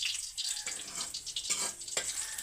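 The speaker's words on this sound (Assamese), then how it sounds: "বেতৰ গাজা ভাজা হ'ল" Cane shoots fry in a pan, giving a close, crackling sizzle with short bursts of stirring noise that continue through the brief moment.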